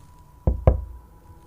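A security guard gives two soft knocks on the door of hotel room 714. The knocks are close, evenly spaced and fade quickly, with no voices.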